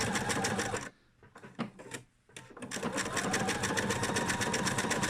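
A sewing machine stitching around a felt heart runs at a fast, even mechanical rhythm, pauses for about a second and a half with a few slow single stitches, then resumes its steady whirring clatter.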